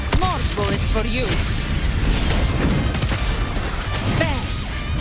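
Gunfire and booming hits in the action video game Wuthering Waves, loud dense bursts of shots and impacts throughout, with a character's voice calling out over the combat.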